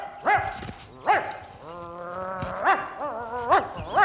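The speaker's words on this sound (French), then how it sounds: "les jappements du chien" A dog gives a series of short, high yaps, roughly four sharp barks spaced about a second apart. The yapping is close and loud, with a longer whining yelp in between and no talk over it.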